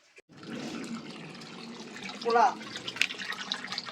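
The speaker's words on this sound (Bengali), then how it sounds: "এবার জলটা ভরতে থাকুক কিছুটা সময় লাগবে" Tap water running steadily into a container indoors, a continuous soft rush lasting a few seconds with small splashy changes near the end as people talk over it.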